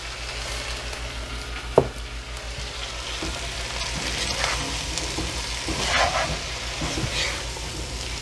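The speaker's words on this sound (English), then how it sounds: "I'm going to add the main ingredient here, the cauliflower." Cauliflower pieces sizzle and fry steadily in a pan with curry and salt while being stirred. A soft scrape and clack of stirring is heard over the constant crackle, with no talking.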